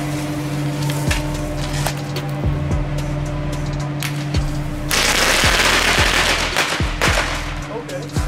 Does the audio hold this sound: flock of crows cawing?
no